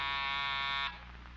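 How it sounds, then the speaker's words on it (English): A door buzzer being tested indoors gives one loud, steady electric buzz with a harsh tone that holds for under a second and then cuts off, leaving a low hum. "I want to check this door buzzer"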